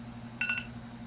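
A short burst of electronic beeps, a brief high chirping tone over a low steady hum.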